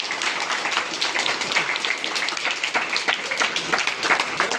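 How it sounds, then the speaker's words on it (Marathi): A crowd at a school event gives loud, dense applause, a continuous patter of many hands clapping at once. "त्याबद्दल एकदा त्यांच्यासाठी जोरदार टाळ्या वाजवा."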